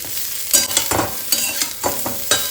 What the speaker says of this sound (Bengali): হলুদ দিয়ে একটুখানি ভেজে নেব